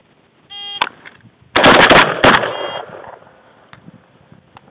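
Three gunshot rounds fired within about two seconds: loud, close, sharp cracks in a quick burst, with an echoing tail that fades afterward.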